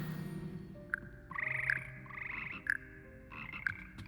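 Frogs croak in the Hogwarts Legacy video game: a soft ambient chorus of low croaks, broken by a few sharper high chirps and clicks, with no one talking.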